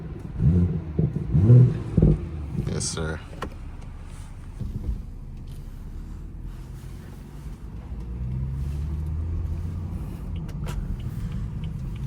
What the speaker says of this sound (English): You want to hear some revs?